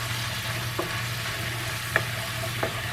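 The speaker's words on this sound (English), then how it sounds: "I'm just going to let it cook just long enough to soften up those onions." Onions frying in a pan give a steady, even sizzle, while a utensil scrapes through them in a few short strokes. There is no talking.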